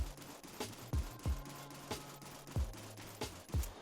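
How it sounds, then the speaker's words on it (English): Burst-fire rifle shots in the Warzone 3 video game, fired on the three-round burst setting: sharp, close gunfire in quick clusters of shots repeated several times over a few seconds, with no talk over them. "when you just squeeze the trigger without putting it on single fire, it's going to give you a 3 bullet shot"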